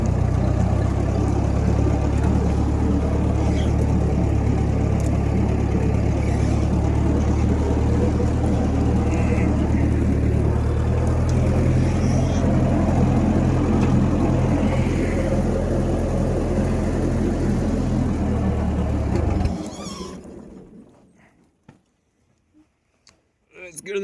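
A big old tractor engine rumbles loudly and steadily at close range while driving on a farm, then cuts off abruptly near the end, leaving near silence; someone talks over the running engine.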